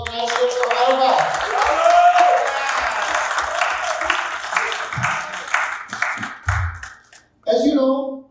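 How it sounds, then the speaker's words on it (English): Crowd applause at a Pakistani American US Independence Day celebration, a broad wash of clapping with cheering voices and a loud voice over it, thinning out near the end before a brief final burst. "How about a big round of applause for the United States of America?"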